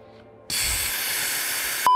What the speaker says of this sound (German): Die Luft kann ich schon mal hier aus dem Luftballon lassen.